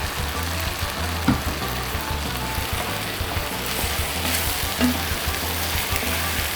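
Okra fries in a pan for shrimp and okra gumbo, a dense, steady sizzle up close with occasional soft stirring scrapes and small pops, no voices.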